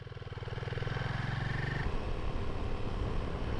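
A motorcycle ridden on a winter road near Askersund, its engine droning steadily and rising in pitch as it accelerates, then settling into rougher, rumbling wind and road noise up close.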